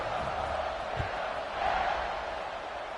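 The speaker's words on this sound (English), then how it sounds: "this crowd is buzzing after that last score" A stadium crowd in a Baylor college football video game keeps up a steady, dense buzz, with a brief swell of cheering partway through and no clear talk over it.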